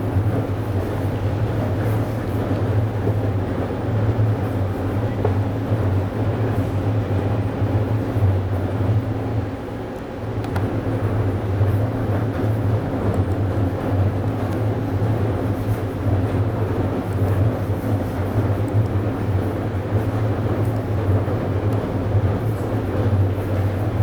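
An mHIL damper test rig runs a ride road maneuver, a steady loud mechanical rumble with strong low hum and continuous broadband noise, briefly dipping once before resuming.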